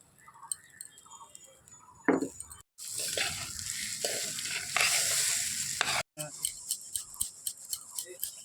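Gobindobhog rice goes into a hot pan for veg pulao, with a brief pouring rush and then loud sizzling and repeated scraping stirs, ending in a run of quick, rhythmic spoon taps.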